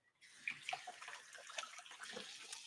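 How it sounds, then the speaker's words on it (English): A kitchen tap runs while hands are rinsed under it, giving a soft, close, steady splash of water with small irregular spatters. No voices. "Now I'm going to rinse my hands."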